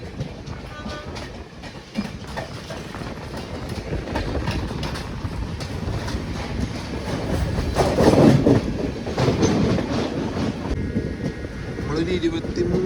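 Passenger train running near Aluva, hauled by a Tatanagar locomotive in Tata Steel livery, producing a continuous rumbling roar with rattling and clatter that swells in the middle, while a voice talks over it.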